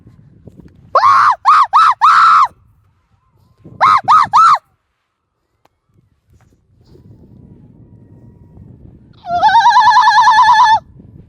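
A person on a forest trek near Muthyala Maduvu waterfall imitates a monkey with loud, close bursts of rhythmic whooping screams, then after a quiet gap a longer, strained scream answers over faint background rustle.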